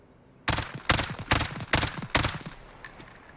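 A FAMAS G2 fitted with a sniper conversion fires in Call of Duty Modern Warfare: about six loud, sharp shots spaced evenly, each with a short ringing tail.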